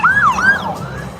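A police car siren wails nearby in two rising-and-falling sweeps, loud over low road rumble from a car in traffic near Seattle, with no speech.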